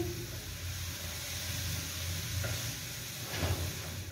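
Vegetables for samosa filling sizzle and fry in a pan, a steady close hiss with a low hum underneath and a couple of brief stirring scrapes.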